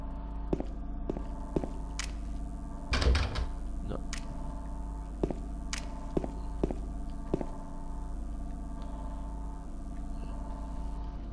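A stuck apartment door in Silent Hill 2 rattles in its frame as it refuses to open. A cluster of knocking thuds comes through low droning ambience, and scattered clicks and taps follow.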